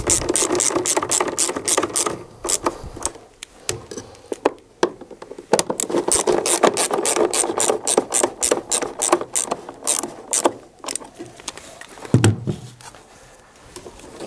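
Fasteners are tightened on a Phoenix DryMAX XL dehumidifier with a ratchet, giving rapid close clicking runs in bursts separated by short pauses.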